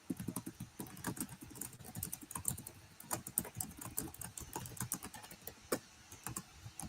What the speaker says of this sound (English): I am typing that in